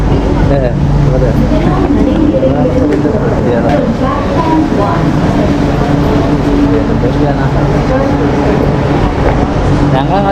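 Inside a Chennai metro train during a ride to Thirumangalam station, a loud steady rumble and hum of the moving carriage fills the space, with people talking over it.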